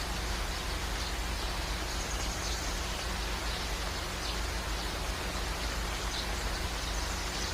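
Steady rain falls at Mangad fort in a continuous, even hiss of droplets with no voices, holding at a constant moderate level throughout.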